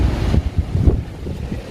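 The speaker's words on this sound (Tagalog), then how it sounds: "So, sugna kayong hangin." Strong storm wind in the Netherlands roars and buffets the microphone in low rumbling gusts, with surging bursts throughout and no voices.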